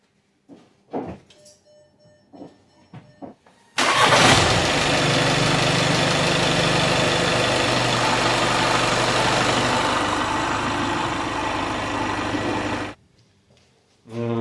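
A Skoda Superb 3 engine, just after a timing belt replacement, cranks in a few short bursts, then roars to life and idles loudly for several seconds before shutting off.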